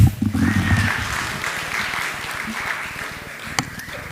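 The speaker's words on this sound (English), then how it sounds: "a round of applause to the moderator" Conference audience applauding the moderator on the final day, a dense wash of clapping that is loud at first and then settles into a steady, slightly fading patter with a few sharper claps.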